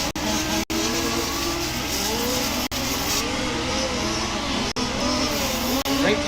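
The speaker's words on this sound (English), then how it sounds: "Your first 3 cars coming around the sweeper." Race cars sweep through a long bend at Warm Springs, engines whining and rising and falling in pitch as they pass, heard moderately close with a commentator talking over them.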